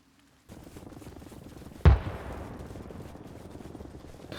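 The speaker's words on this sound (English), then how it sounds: "Sounds like it's somebody on the mortars over here." In the ARMA Reforger video game, a single sharp mortar boom lands partway through, loud and sudden, followed by a long rumbling tail that fades over low ambient battlefield noise. No one talks.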